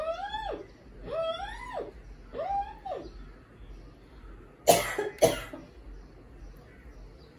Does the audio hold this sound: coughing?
yes